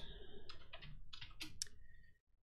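Code being typed on a computer keyboard comes through as a quick run of close, crisp key clicks in uneven bursts, stopping abruptly near the end with no voice.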